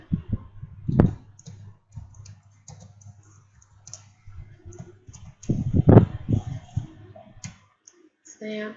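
Computer keyboard typing while coding in Python comes as scattered clicks and short bursts of keystrokes, with one louder cluster midway. Someone speaks over them.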